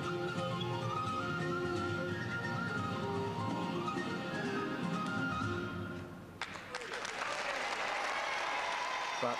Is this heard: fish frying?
no